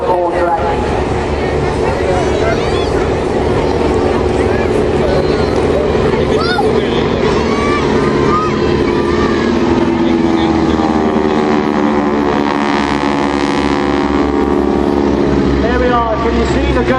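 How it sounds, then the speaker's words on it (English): A biplane aerobatic aircraft with a roughly 450-horsepower engine drones continuously at an airshow, a loud, steady propeller roar with slowly shifting pitch as it passes. "But this aircraft, with its biplane structure, is a lot more draggy."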